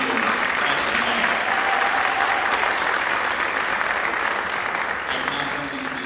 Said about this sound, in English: Another round of applause for our middle schoolers.